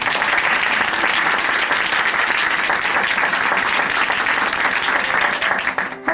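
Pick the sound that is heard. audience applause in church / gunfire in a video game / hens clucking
audience applause in church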